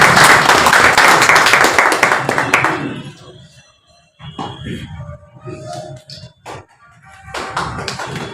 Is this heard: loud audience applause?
yes